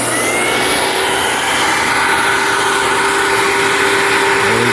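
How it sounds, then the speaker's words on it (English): Compressed air blows water out of the plumbing lines in a bunkhouse during winter prep, a loud, continuous roaring hiss of rushing air that holds steady throughout, close by. "I'm blowing all the water out of the lines in the bunkhouse"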